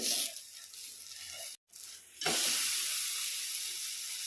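A moong dal dosa roasting on a pan gives a soft hiss that cuts out briefly. It then returns as a louder, brighter steady sizzle.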